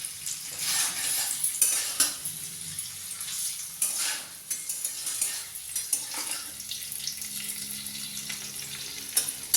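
Paneer fries in hot oil while metal utensils scrape and clink against the pan as pieces are lifted out, a soft sizzle broken by several close bursts of rattling and stirring, with no voices.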